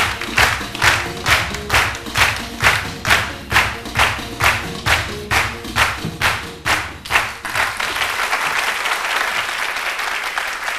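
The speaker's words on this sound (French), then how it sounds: "je veux des applaudissements plus fournis" Studio audience at a midday television show in Côte d'Ivoire claps in rhythmic, evenly spaced unison beats that give way after about seven seconds to sustained, dense applause, loud and close with no talking.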